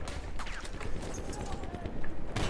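Gunfire in the video game Battlefield 1, with scattered distant shots and sharp cracks over a rumbling battlefield background and a louder burst near the end, while someone talks over it.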